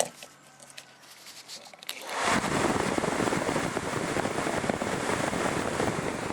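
A Toyota Tarago 12-volt blower motor starts after a quiet moment and runs with its polarity reversed, giving a loud, steady, broadband whirring rush that holds without a break.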